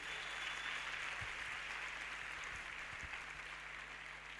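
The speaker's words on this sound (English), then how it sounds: "Give yourself a round of applause." Audience applause at a youth empowerment event, a steady wash of clapping that holds at an even level for several seconds with no voices over it.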